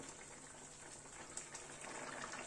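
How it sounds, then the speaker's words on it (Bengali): Lentil and egg dumplings simmer in gravy in a pan, a soft, steady bubbling hiss with a few faint pops, quiet and close with no talk. "ধোকাগুলো একটু ফুটে উঠুক ঝোলের মধ্যে।"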